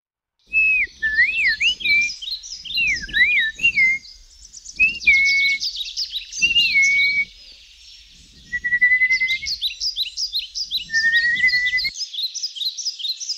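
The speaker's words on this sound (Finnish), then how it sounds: "osaan matkia myös lintujen ääniä, jotka rakastavat laulella kanssani" Birds chirp and whistle in bright, rapid trilled phrases, several overlapping songs coming in bursts with short pauses between, clear and close with no talking.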